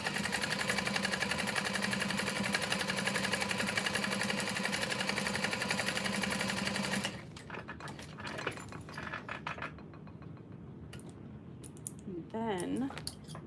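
A sewing machine stitches a tote bag in a continuous, steady mechanical whir for about seven seconds, then stops, leaving quieter handling clicks and a brief voice.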